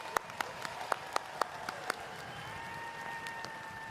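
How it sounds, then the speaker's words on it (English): Scattered, sparse hand claps at a high school commencement ceremony, a handful of sharp individual claps in the first two seconds that quickly die away, leaving a quiet hall with a faint steady hum. "Could we please have a round of applause for all the hardworking parents, family members, and loved ones who have shown us unwavering love and support?"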